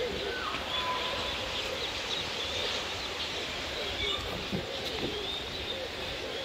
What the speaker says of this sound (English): welcome back to the largest aviary in the world